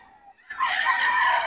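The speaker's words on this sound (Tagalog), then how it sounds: "Ang quality ng mga manok ni boss Albert mga idol." A gamecock in Bocaue lets out a single loud, close crow that starts abruptly and holds for about a second after a brief quiet lead-in.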